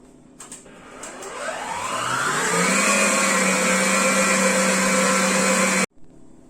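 Kitchen stand mixer beating eggs and sugar, its motor whirring up to a steady high-pitched drone that holds evenly for several seconds before switching off abruptly.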